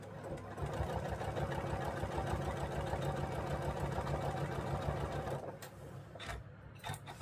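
A sewing machine stitches a quilt unit from one corner to the opposite corner, a loud, steady, fast mechanical whir with rapid needle rhythm for about five seconds before stopping, followed by light handling noises.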